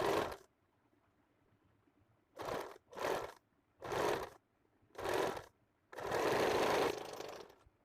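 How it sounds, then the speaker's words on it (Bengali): A sewing machine stitches a sleeveless blouse in five separate bursts: four short runs, then a longer run of about two seconds at the end, with near silence between them. "রাখার পর উপর থেকে আমি সেলাই করব"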